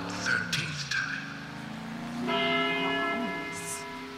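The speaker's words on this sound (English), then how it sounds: "After the 12th time, the bell did not stop ringing." A bell tolls in the video game Deadly Premonition, with ringing metallic strikes whose resonant tones linger and overlap, moderately loud with a faint background.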